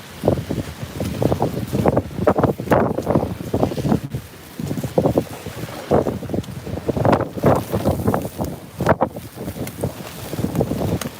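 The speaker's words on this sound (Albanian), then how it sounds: "Kemi shumë erë e fortë." Strong, gusty wind blows hard across an outdoor snowfall scene in Elbasan, roaring and buffeting close to the microphone in continuous surging waves with no clear voices.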